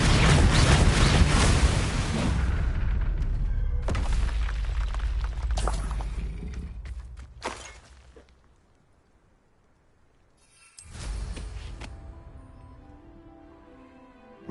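Spell blasts like Bombarda and Confringo in Hogwarts Legacy, heavy booming detonations with long rumbling decays, a loud burst early, a fade to near silence, then another blast near the end.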